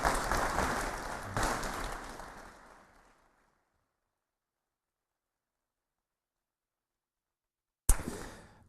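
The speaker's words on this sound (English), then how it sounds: "So please give them an applause and so they feel welcome," Conference audience applause welcoming a panel onto the stage, a burst of clapping that fades away over about three seconds into silence, followed by another short loud burst near the end.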